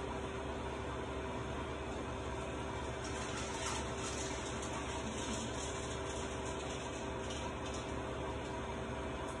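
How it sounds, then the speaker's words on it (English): Water pours steadily into the bottom pot of a steam juicer used for making elderberry juice, a continuous faint rushing fill that runs evenly throughout with no talking. "So I'm going to fill my steam bottom with water."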